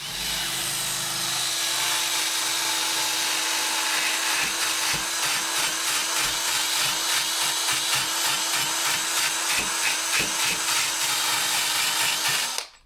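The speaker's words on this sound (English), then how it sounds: "Now what I need to do is rough the wood up. So I do is I do it with a drill motor" A drill spins a wire brush against wood to rough it up and raise the grain, a loud continuous grinding rasp with a rhythmic scrubbing pulse as it works back and forth.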